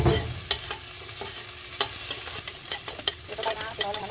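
Onion and garlic sauté in a pan with a crackling sizzle. Utensil scrapes and clicks keep stirring through it, close and fairly busy.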